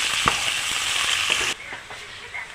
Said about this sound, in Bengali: পেঁয়াজ ভাজা হয়ে এসছে